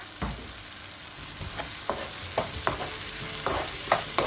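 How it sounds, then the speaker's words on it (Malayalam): Ground tomato sautés in hot oil for a mixed vegetable curry, a steady close sizzle broken by several scraping strokes of a spoon against the pan, with no voices. "ഇതിലിട്ടിട്ട് നന്നായി വഴറ്റിയിട്ട് ഇതിൻ്റെ എല്ലാം പച്ചമണം മാറുന്നത് വരെ നന്നായി മൂപ്പിച്ചെടുക്കുക"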